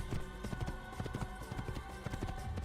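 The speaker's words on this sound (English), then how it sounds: "you gotta ride a horse all through the fucking Kingdom again to get to the city you want to get to" Horse hooves gallop in a steady rapid clip-clop rhythm in the video game Assassin's Creed, close and fairly quiet, with no talking over it.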